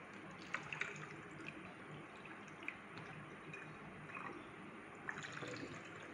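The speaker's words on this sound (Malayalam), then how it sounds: "ഇനി നമ്മൾ ചെയ്യേണ്ടത് മദ്ര കൾച്ചർ ഒഴിച്ചു കൊടുക്കാണ്" Vinegar eel mother culture poured into a container, a faint, steady liquid trickle with a few soft drips and splashes, no voices.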